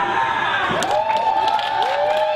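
Wrestling crowd at a live match cheering and shouting steadily throughout, a dense roar with whistles and rising whoops layered over it, loud and close, no clear talk.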